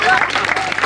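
Game show studio audience clapping for a contestant, a short burst of dense applause with voices mixed in.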